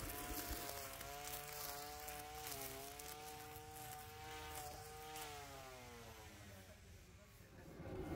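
A petrol grass cutter's small engine runs steadily with a buzzing drone that wavers slightly in pitch while someone speaks over it.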